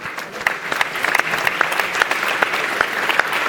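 A crowd at a WHS 2017 startup award ceremony applauds with dense, loud clapping, and a few crisp individual claps stand out in the wash.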